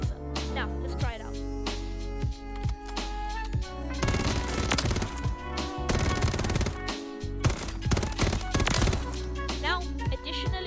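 Rapid automatic gunfire from a custom loadout weapon in Warzone, fitted with a quick fire laser, comes in loud bursts and sustained strings of shots alongside game effects, while a person talks over it.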